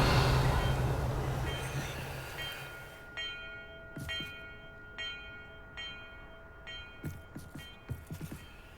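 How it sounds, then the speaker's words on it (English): Bells ring in Hogwarts Legacy during a bell-order puzzle, with several separate clear strikes ringing out over a low rumble that fades, some strokes spaced apart and others coming in quick bunches near the end. "Perhaps the map contains clues about the order I'm supposed to ring the bells in."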